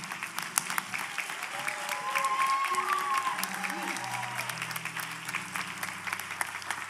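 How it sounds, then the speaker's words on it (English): Sustained audience applause at a church youth panel with the crowd standing, a steady dense clatter of clapping throughout, with voices and cheers faintly mixed in underneath. "let's clap give them a hand"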